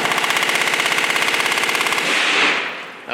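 A suppressed rifle fires a fast, continuous burst at a shooting range, a dense string of sharp cracks lasting about two seconds, then fading into a brief tail and a final click.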